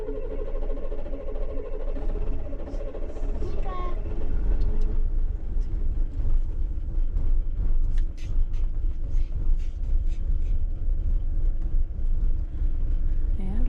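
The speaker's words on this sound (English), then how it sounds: "Hij loopt dus nu niet op alle cilinders." A cold camper van engine misfires and fails to run on all cylinders, idling with a rough, uneven rumble that carries on throughout while people talk over it.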